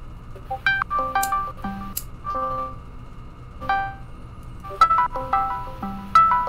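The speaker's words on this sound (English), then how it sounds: "Whose phone's going off?" A phone ringtone plays a bright, melodic electronic tune in repeated bursts of short notes, loud and close, with background room sounds underneath.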